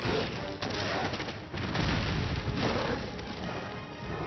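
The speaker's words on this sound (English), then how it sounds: "Gonna walk right into our explosions" Continuous rumbling explosions and gunfire-like bursts in Monster Hunter World, dense and steady, with no clear gaps.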